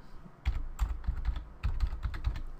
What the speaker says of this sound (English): then you want to type Windows Unlocker